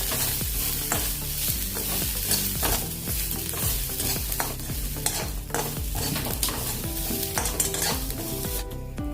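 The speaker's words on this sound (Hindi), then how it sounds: "सूखी लाल मिर्च डालेंगे 4-5 और बाद में अपना मसाला डालेंगे जो हमने पीसा है। अच्छे से मिक्स कर लेंगे।" Dried red chillies and freshly ground masala are stirred and fried in a pan for a Pahadi-style potato dish, making a loud, busy sizzle with repeated scraping strokes and clinks throughout.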